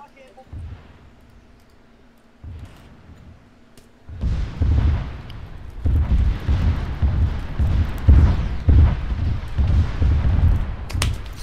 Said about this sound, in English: We're detecting missile launches!